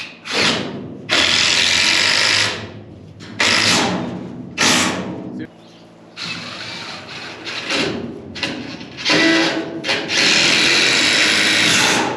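A power drill drives screws into wood in several loud, close bursts with short pauses between them, with someone speaking briefly in the gaps.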